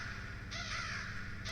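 A single crow caw rings out in the video game The Stanley Parable, a short, harsh call over a low hum, with another starting just at the end.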